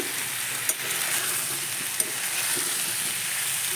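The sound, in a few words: chopped tomato stirred into frying potato and pointed gourd curry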